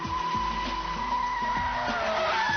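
BMW Z3 M Roadster drifting, its tires squealing in a sustained high screech over the engine's rising and falling revs during repeated throttle changes, near and loud.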